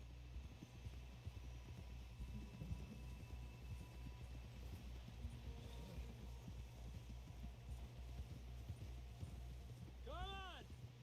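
A horse gallops in the Red Dead Redemption 2 video game, with steady rapid hoofbeats running throughout over a low rumble, faint voices in the background and a short whinny near the end.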